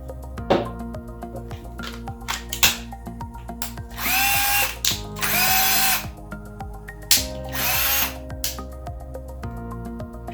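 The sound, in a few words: cordless drill running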